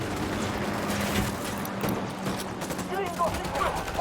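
Sustained gunfire from a Ghost Recon Wildlands firefight, a steady wash of rapid shots running throughout with voices briefly speaking over it.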